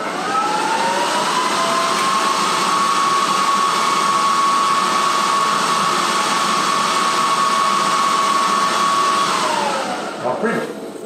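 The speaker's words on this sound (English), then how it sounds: "I'll turn on the full power of the Adfos, which will be a bit noisy" An industrial printer's dryer unit runs at full power, a loud blower with a high whining tone over a broad rushing roar, then winds down near the end.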